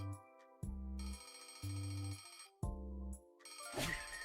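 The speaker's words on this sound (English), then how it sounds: "The familiar noise of Henry's alarm clock announces the dawn of a new day." A nervously quivering alarm clock rings in a video game, its bright electronic bell sounding in repeated bursts with short pauses between, loud and up close, ending in a rattling shake.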